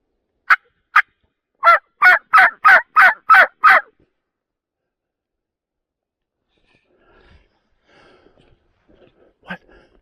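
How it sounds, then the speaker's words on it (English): A wild turkey gobbles during a California turkey hunt, with two quick calls followed by a rapid burst of about six gobbles, clear and fairly loud. Faint rustling and a brief sharp sound follow in the quiet afterward. "They gobble again."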